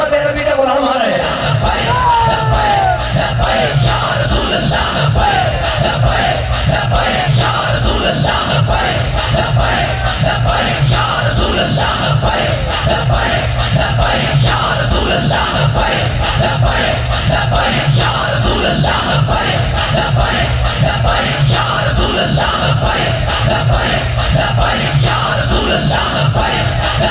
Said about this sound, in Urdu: محمد عربی کے غلام لبیک کا نعرہ لگا رہے ہیں